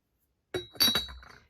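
A delicate thin-walled porcelain cup is tapped, giving a couple of light clinks that ring briefly before fading, close by and alone.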